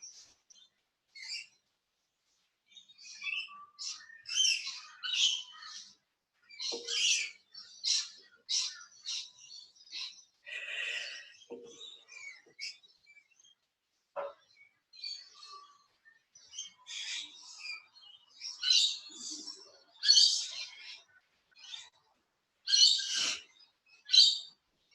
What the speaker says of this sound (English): that's birds in the background.